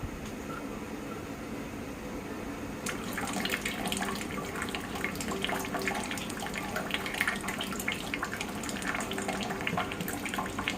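Maple syrup trickles from an opened draw-off valve on an evaporator, a steady liquid splashing and gurgling that starts about three seconds in and continues under a constant low background rumble.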